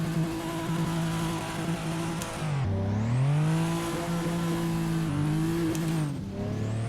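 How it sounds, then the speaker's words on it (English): A Toyota Supra race car at Monza in Assetto Corsa launches with a loud, steady engine roar, revs dipping and climbing through gear changes as the tires spin off the line. "Spin the tire just a little bit off the line here."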